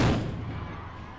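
A smoke bomb thrown at a campaign event in the port city of Wakayama, Japan, bursts with a loud, booming blast at the very start, then fades into a rumbling, echoing decay with faint crowd noise behind it.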